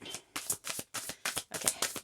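Tarot cards being shuffled by hand, heard as quick bursts of riffling and flapping that come in short clusters separated by brief pauses, close and crisp.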